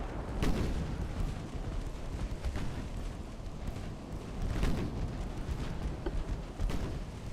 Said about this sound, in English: Our battleship is still shelling Baden.